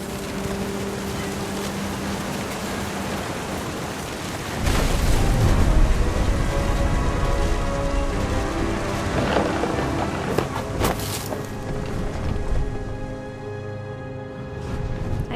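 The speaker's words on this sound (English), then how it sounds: "Thunder sounded much too close and full of angry power." Thunderstorm with rain in What Remains of Edith Finch: a steady rain hiss, then a heavy rolling boom of close thunder that swells loudly and rumbles on for several seconds before easing back into the downpour.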